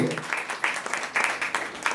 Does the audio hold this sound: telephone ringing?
no